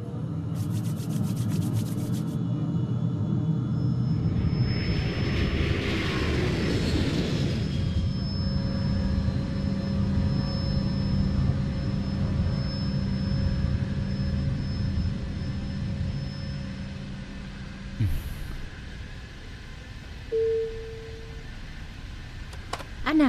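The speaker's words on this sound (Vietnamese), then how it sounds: "Máy bay chuẩn bị cất cánh." A jet airplane taking off, its engine roar loud and steady, with a swelling whoosh early on, then a sustained hum and tonal whine while faint cabin sounds occur.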